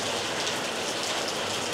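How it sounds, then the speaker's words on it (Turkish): Rain falls steadily on a street in George Town, Penang, a dense, even hiss of drops with no voices. "Yağmura yakalandım. Ama ne güzel yağıyor be."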